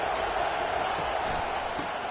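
Steady stadium crowd roar from a college football game in NCAA 25, a dense continuous wash of cheering and murmur at even loudness with no clear breaks.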